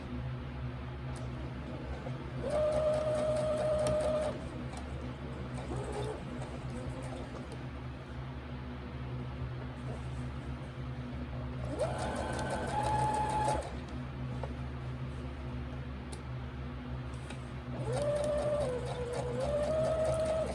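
A serger sewing machine stitches fabric along a pants pocket in three short whirring bursts over a constant low motor hum.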